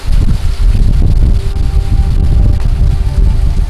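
Loud, buffeting Category 4 Hurricane Laura wind roaring against the microphone in continuous heavy gusts, close and forceful, with no talking.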